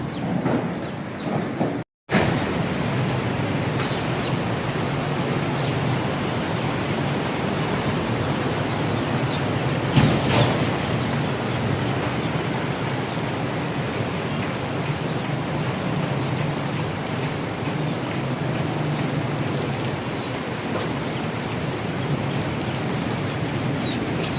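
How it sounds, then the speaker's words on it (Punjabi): Heavy stormy summer rain pours steadily outside in a village, a dense continuous hiss with a brief gap near the start and a faint thunder-like thump midway. No one speaks. "ਬਾਰਿਸ਼ ਕਾਫੀ ਜ਼ਿਆਦਾ ਹੁੰਦੀ"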